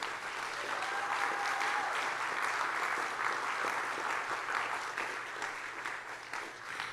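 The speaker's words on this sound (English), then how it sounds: "a round of applause for our youth here today" A crowd at an immigration-focused event gives a sustained round of applause for young people, an even, steady wash of clapping that continues without a break and tapers slightly at the end.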